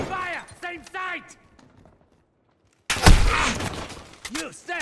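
Game gunfire bursts out loudly in the second half after a near-silent pause, with dense overlapping shots under shouted team voices. Speech fills the opening seconds.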